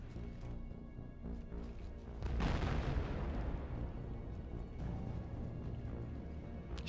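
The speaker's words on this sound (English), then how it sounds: "What was that explosion?" An explosion in Mass Effect 3 hits with a heavy, rumbling boom that swells suddenly over quieter game ambience. A long, rolling roar and crackling debris trail off afterwards.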